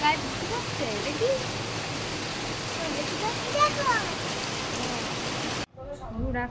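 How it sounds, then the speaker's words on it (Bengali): Steady rain pours outdoors for several seconds as a dense, even hiss, with a voice and faint talk now and then, before the sound cuts abruptly to a quieter indoor scene with speech. "হ্যাঁ তোমার গায়ে বৃষ্টি পড়ছে"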